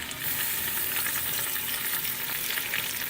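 A fish head fries in hot oil with onion paste, giving a steady, dense crackling sizzle heard up close, with no talking.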